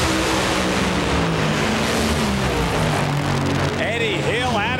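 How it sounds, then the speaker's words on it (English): A Top Fuel dragster blasts off the starting line at a 1998 NHRA Top Fuel race in Pomona, a loud sustained engine roar that fills the track ambience, with an announcer's voice rising over it near the end. "Eddie Hill out of the gate"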